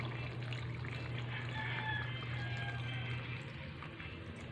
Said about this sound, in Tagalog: lagyan na po natin siya ng tubig. Konting tubig lang po.